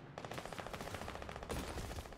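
Rapid automatic gunfire in a video game, a dense stream of shots at a steady fast rate with a louder burst partway through, heard faintly and somewhat muffled.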